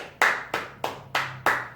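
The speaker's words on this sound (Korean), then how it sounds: "우리 하나님께 영광의 박수 드리면서 예배 마치도록 하겠습니다." Five sharp hand claps at an even, steady rhythm, close and distinct, from a church worship service closing with applause, no voices over them.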